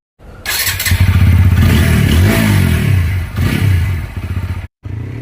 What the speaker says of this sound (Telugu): నేనైతే ఇప్పుడు ఈ వెహికల్ ని రైడ్ చేస్తాను